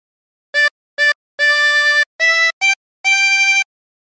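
A 24-hole tremolo harmonica plays a short phrase of Mary Had a Little Lamb in six separate blown notes, some clipped and some held, clear and close with silence between phrases.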